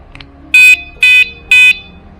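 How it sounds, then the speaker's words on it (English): A bike anti-theft alarm gives three loud, evenly spaced electronic beeps, each about a quarter second long, after a battery is installed, with quiet clicks before and between. "You should hear a beeping noise if I install the third one."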